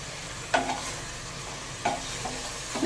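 Chicken being stirred together with cooked spices in a pan, with a few soft scraping strokes and faint sizzling at a steady low level, no talking.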